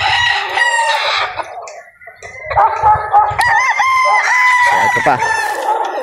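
A White Kelso gamefowl rooster crows loudly and close by, one long drawn-out call following earlier clucking and a short crow, while someone speaks briefly over it on a farm.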